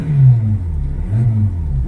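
A Volkswagen Polo 6N with multiple faults, including an engine that stalls after acceleration, is revved. Two low, rough rises in engine tone come close together, heard close by with no talk.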